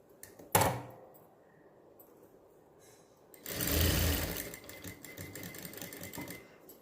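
A sewing machine stitches a blouse back neck design in a short, loud mechanical run of about two seconds, after a sharp knock and a stretch of quiet room.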